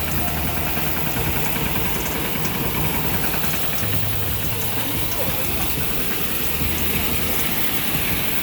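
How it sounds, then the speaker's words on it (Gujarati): A farm tractor idles near the wheat-threshing area with a loud, continuous, rumbling drone that never lets up. "આપણું ટ્રેક્ટરે જો અહીંયા આવી ગયું છે."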